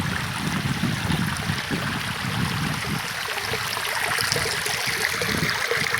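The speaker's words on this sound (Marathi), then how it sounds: "पाण्याचा खलखल आवाज" Mountain water tumbling down a small rocky ledge in a forest, a steady, close gurgling and splashing flow that runs without a break and fills the whole scene with no voices over it.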